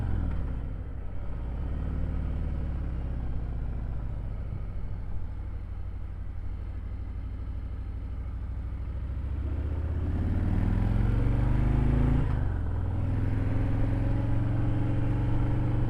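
A motorcycle engine drones steadily during a short test ride at the start of the 2025 riding season, rising into a louder, deeper rumble partway through as it accelerates, with no talking.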